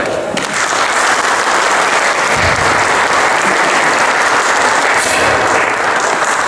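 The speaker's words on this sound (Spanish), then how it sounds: "un fuerte aplauso para él" An audience at a museum storytelling and legends afternoon greets the storyteller Carlos Cazares with loud, steady applause that continues evenly throughout.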